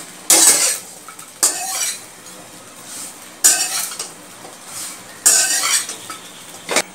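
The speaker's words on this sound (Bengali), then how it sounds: "পাউরুটিগুলোকে আমি লাল লাল করে ভেজে নেব।" Bread slices fry in ghee in a pan while a spatula scrapes and clinks at intervals over a faint, low sizzle.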